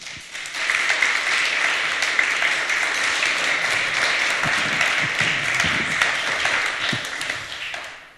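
Sustained audience applause greets panelists walking on stage at the re:publica 2019 conference, a dense, steady wash of many hands clapping for about eight seconds before fading out at the end.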